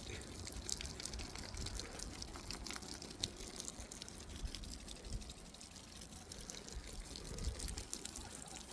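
Water pouring and splashing steadily onto plants on a farm, a continuous soft wash with faint trickles, no talking.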